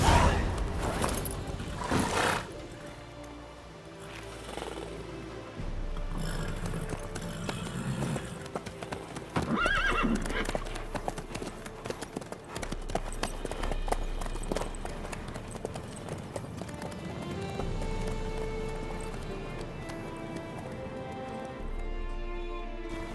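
Horse hooves in The Witcher 3 clop rhythmically and loudly alongside game music and ambience, with some louder bursts; any neighing is not clearly picked out.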